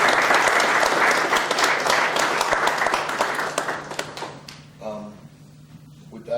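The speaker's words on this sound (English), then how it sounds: "please give them a round of applause" Hearty applause from the audience at the Shandaken town board meeting: dense, steady clapping that thins and fades away over several seconds, after which a voice begins speaking briefly.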